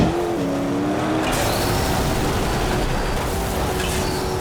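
An SUV-like racing truck roars through an off-road race in MotorStorm, its engine revving loudly and continuously up close, with tire squeal and other vehicles rushing past.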